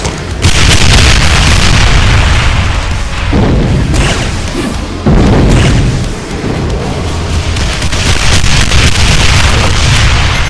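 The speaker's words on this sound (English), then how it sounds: "A larger spread of straight fire trails, and a large spread of exploding trails" Cyberdemon attacks in a Doom mod video game set off a dense, loud barrage of booming explosions and fiery bursts. The blasts roll on almost without pause, with sharp spikes throughout.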